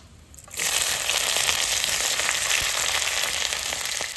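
Onions fry in hot oil for a Bengali home-cooked curry, a loud, steady sizzle that bursts in suddenly after half a second and keeps up a dense crackling hiss to the end, with no talk.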